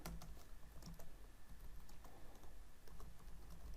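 Computer keyboard keys tapped in quick irregular bursts during a CSS coding lesson, close and fairly quiet over a low steady room hum, with no talking.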